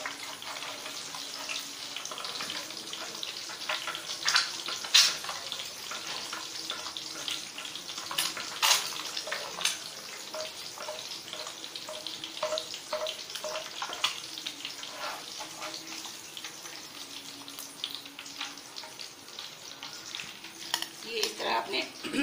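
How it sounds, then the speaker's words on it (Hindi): Eggs frying in a pan for a home breakfast, a continuous soft sizzle with scattered crackles and stirring scrapes at close range, with someone talking lightly over it. "ये इस तरह से मैंने अंडे फ्राई किए हैं।"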